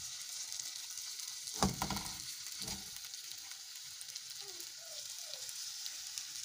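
Malai boti on sticks sizzles in butter over medium-low heat, a soft continuous frying hiss with a sharper crackle early on and a few faint clicks later, no talking.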